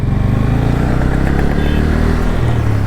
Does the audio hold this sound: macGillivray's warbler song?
no